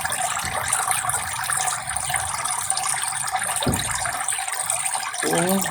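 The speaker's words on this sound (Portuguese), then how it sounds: "Jogou água fora." Water is tipped out beside a fish tank, a continuous broad splashing gush that runs throughout, with a brief thud and a short squeak near the end.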